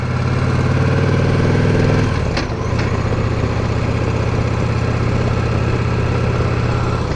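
A 2015 Victory Cross Country touring motorcycle idles with a loud, steady engine rumble, then a brief clunk of the gear shift drops the tone before the engine settles back into a constant drone.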